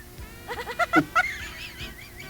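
A goat bleats in a short run of wavering calls, several quick bleats clustered near the middle, fairly close and alone with no talk.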